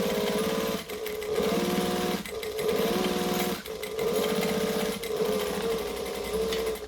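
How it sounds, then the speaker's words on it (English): A sewing machine stitches a bag seam in loud, fast rhythmic bursts, pausing briefly between runs of stitching, close up and with no talk. "I can hear my bobbin running out"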